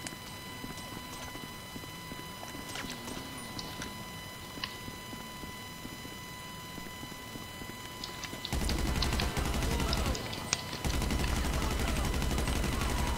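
Gunfire in GTA 5 Online, arriving as a loud burst of rapid game shots in the latter part after a quieter stretch of background game sound.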